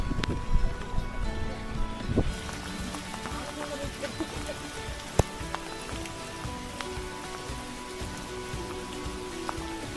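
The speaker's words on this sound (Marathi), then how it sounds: "पाऊस सुद्धा चाललाय. हलका हलका पाऊस आहे." Light monsoon rain patters steadily and evenly on a trek up Harishchandragad in the Sahyadri hills. The hiss is moderately faint and continuous, with occasional small knocks nearby.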